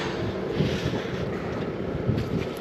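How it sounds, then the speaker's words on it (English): Wind gusts rumble and buffet against the microphone outdoors, a low, continuous roar with no voices. "geez, it is one windy day down here"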